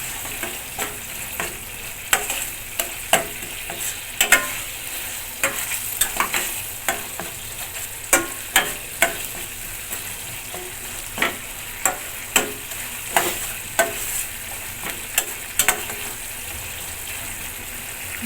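Spice paste for catla fish kalia sautéing in oil, a steady bright sizzle broken by repeated sharp scrapes and taps of a spatula against the pan, close and continuous throughout.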